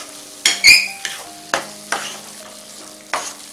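Pav bhaji masala cooks in a hot pan while a spoon stirs it in a few sharp scrapes and clinks, with a soft sizzle between strokes and no voices.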